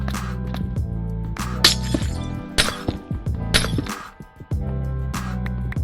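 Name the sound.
breaking tinted glass block in Minecraft video game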